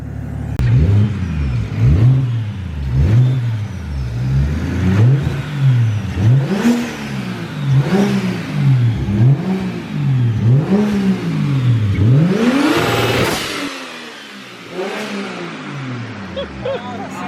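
A big-turbo BMW 335i engine revs repeatedly against the rev limiter, a loud rhythmic series of bouncing surges about once a second, ending in a sharp burst of turbo hiss before dropping to a lower idle.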